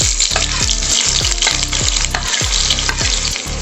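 Two medium sliced onions hit smoking-hot oil in a wok for beans bhaji, raising a loud, constant sizzle with quick rhythmic scraping as they are tossed.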